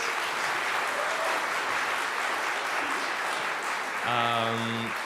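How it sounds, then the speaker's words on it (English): Sustained applause from a memorial gathering's audience for two pianists, steady and fairly loud throughout, with a few piano chords entering near the end. "One more round of applause for our pianists tonight"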